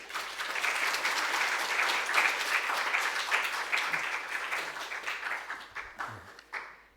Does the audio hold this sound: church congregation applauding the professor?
yes